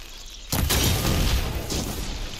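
An explosion in the video game Horizon Forbidden West, a sudden loud boom that cuts in after a quiet moment and trails off into a broad rumbling wash with a smaller burst near the end.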